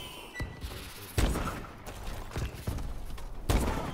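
Bomb landing and blowing up during a one-on-one video game match, a series of sharp blasts at about 0.4, 1.2, 2.7 and 3.5 seconds over a dense background of game noise.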